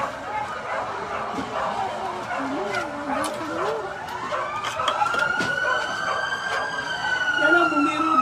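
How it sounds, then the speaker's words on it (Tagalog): Fire truck sirens wailing at a residential fire in Gomburza, Parañaque, rising and falling in the mid-distance while dogs bark and people talk excitedly nearby. "Yan ang bumbero, dami na yan."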